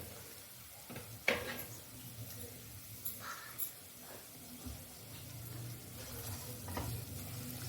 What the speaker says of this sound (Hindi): ये मेरा तड़का तैयार है। मैंने थोड़ा सा इसमें घी ऐड किया